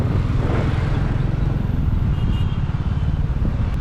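Motorcycle ride with a steady, close low rumble of engine and wind that runs unbroken and fairly loud throughout, with no talk.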